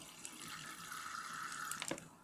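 Tap water poured into a container of copper sulphate and salt for making copper chloride, a steady close trickle whose pitch rises as the vessel fills, ending with a few splashes and drips.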